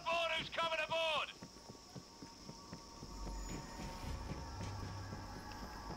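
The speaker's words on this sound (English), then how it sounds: "Get inside the train." A train rumbles steadily in the World War Z video game, with rhythmic clattering and a low drone rising toward the end, after a short burst of shouting voices at the start.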